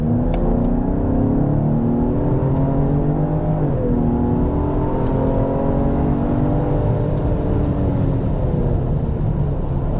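A 2022 Ford Explorer King Ranch engine drones loud and close while driving and accelerating, its steady roar rising gently in pitch through the pull with no talk over it.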